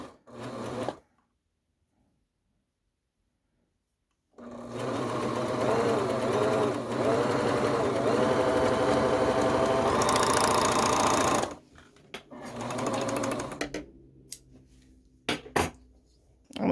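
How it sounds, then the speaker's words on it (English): A serger stitches layered skirt under layers in a rapid, loud mechanical whir lasting about seven seconds after a silent pause, then stops, followed by a few short clicks and handling knocks. "the serger will do the work for me"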